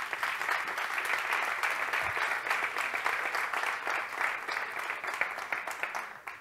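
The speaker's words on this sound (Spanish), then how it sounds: "Un aplauso para Carmen." Sustained applause from a conference audience fills the room, dense and steady throughout, tapering slightly at the end.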